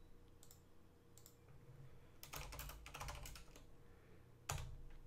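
Computer keyboard typing while writing an email, faint bursts of quick close key clicks with short pauses between them and a sharper tap near the end.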